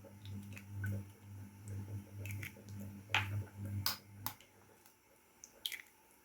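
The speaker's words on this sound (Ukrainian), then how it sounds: "В чашечки збиваю два яйця." Two homemade eggs broken and beaten in small cups: a few sharp taps and wet, squishy drips, close but faint, over a low steady hum.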